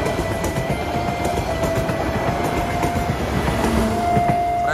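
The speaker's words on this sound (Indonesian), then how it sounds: "Kereta perpustakaannya melintas." A train rolls past a railway level crossing, its wheels clattering in a steady clickety-clack with a sustained tonal squeal, loud and close throughout.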